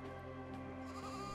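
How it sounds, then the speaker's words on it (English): A sheep in the video game AER: Memories of Old gives a single quiet, drawn-out bleat over a soft, steady tonal game ambience. "But yeah, it's a sheep."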